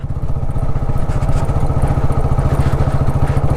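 Off-road motorcycle carrying a passenger on a rough trail, its engine loud and close with a steady throbbing rumble and clattering thumps from the bumpy ground throughout.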